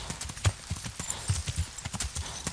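Horse hooves clip-clopping in the Kingdom Come: Deliverance video game, a steady run of close, fairly loud hoofbeats on the ground while a horse is pushed hard on a ride.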